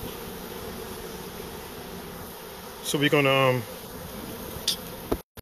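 Honey bees swarm inside a hive during installation of new bees, giving a soft, continuous buzzing drone. Someone speaks briefly partway through and a few light handling knocks are heard.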